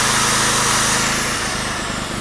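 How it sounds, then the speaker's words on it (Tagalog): An electric drill whirs loudly and continuously, powered by a quiet inverter generator, a close, steady motor whine that holds for a couple of seconds. "Saksak natin tong barena."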